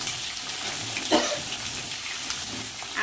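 Cut vegetables dropped into hot oil with dried chillies and panch phoron, giving a steady close sizzle with a brief louder splash of frying partway through; no talking.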